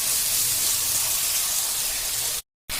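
Onions, tomatoes and salt sauté in a hot pan, giving a steady, close hiss of frying that runs evenly and stops briefly near the end, with no talking.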